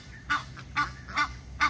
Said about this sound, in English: The Egyptian geese and their baby.